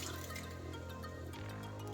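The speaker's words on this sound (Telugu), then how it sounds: "కొద్దిగా నీళ్ళు వేసుకుందాం" Steady water pouring into a pot of cooked toor dal, a continuous watery splash with soft dripping texture, close and fairly quiet, no voices.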